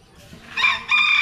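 A rooster crows briefly, a short bright call rising out of quiet farmyard background noise, close by.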